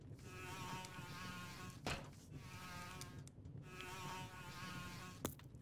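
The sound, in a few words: swarming flies buzzing, from video game The Whispered World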